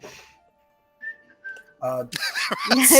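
During a Dungeons & Dragons tabletop session, someone gives two short, quiet whistled notes in a hushed pause, and then people immediately start talking loudly.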